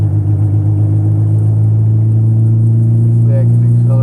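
A car accelerates onto a road with a loud, steady engine drone and deep low rumble sustained throughout, its tone holding fairly constant over a few seconds.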